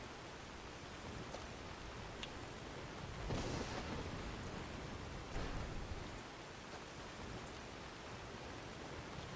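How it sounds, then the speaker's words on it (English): Thunder in the video game Skyrim rolls in as low swelling rumbles over a steady hiss of rain, with two broader surges in the middle of an otherwise even stormy wash and no voices. "The thing is that the thunder in this, for some reason, sounds legit"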